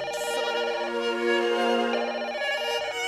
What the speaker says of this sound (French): et puis le téléphone qui sonne